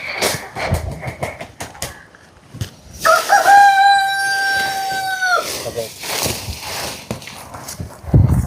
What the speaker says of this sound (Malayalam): നമ്മുടെ കോഴിമക്കള് ചീരയ്ക്ക് വേണ്ടി നിൽക്കുക.